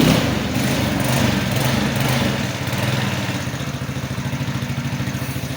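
A small engine on a riding vehicle with a battery that is not charging runs steadily and close by as it drives up, with an even, continuous drone and no talking.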